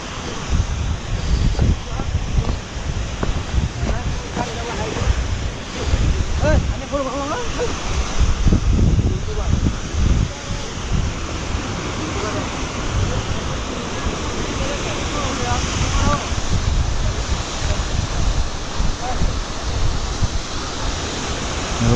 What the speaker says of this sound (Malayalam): വെള്ളച്ചാട്ടം വെള്ളച്ചാട്ടം